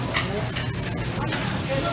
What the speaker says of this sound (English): And there it is, sizzling.